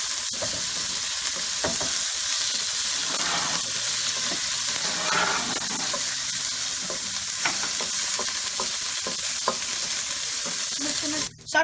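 Onions for mutton chukka frying in a pan, giving a continuous bright sizzle with occasional stirring scrapes and a clatter at the very end, no voices.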